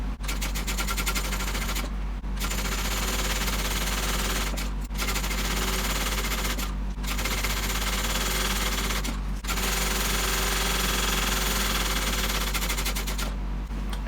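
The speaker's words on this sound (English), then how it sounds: "Now we can go ahead and top stitch our strap detail." A sewing machine topstitches a bag strap at a steady, dense, rapid rattle that runs continuously, broken by a few short pauses as the stitching stops and restarts.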